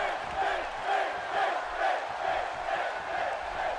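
An arena crowd in the WWE 2K18 wrestling video game at a Brooklyn SummerSlam event cheers in rising and falling surges, a steady roar that swells rhythmically about every half second.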